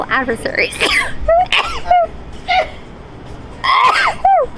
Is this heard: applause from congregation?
no